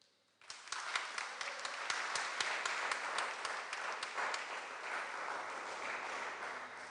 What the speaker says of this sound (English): It's good to hear the applause here